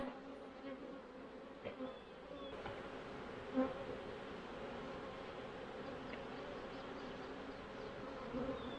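Honey bees buzz steadily around an open Demaree hive in the evening, a soft, continuous hum with a few louder individual bees passing close by.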